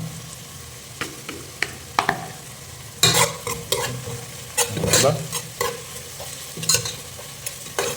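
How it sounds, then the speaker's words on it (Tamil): Onions sautéing in a pan for a mackerel fish curry with cumin seeds, stirred with repeated scraping strokes over a steady close sizzle, with sharper bursts of spatula clatter throughout. "வெங்காயம் நல்லா வதங்கட்டும்."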